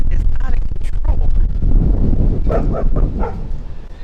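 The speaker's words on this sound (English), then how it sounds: "The dogs are barking at the garbage can that the wind blew to the side of the sidewalk." Dogs bark in short excited bursts outdoors while strong wind roars across the microphone, the gusts rumbling loudly beneath the barks and continuing as they fade toward the end.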